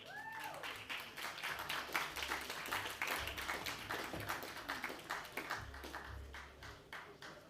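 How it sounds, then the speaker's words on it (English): Applause from a conference audience right after a session on clean transport is introduced, steady dense clapping lasting throughout, fairly loud and close with no talk over it. "Please give them a big round of applause."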